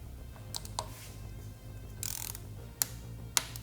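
A torque wrench tightens a Womet-Tech engine slider bolt on a 2022-or-later Yamaha XSR900. Quiet mechanical ratcheting and clicking come close up, ending in a couple of sharp, distinct clicks, with no voices.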